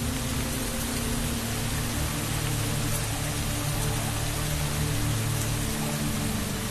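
Heavy rain falls steadily in south-east Queensland forest where koalas live, a dense, unbroken wash of drops that holds loud and even throughout.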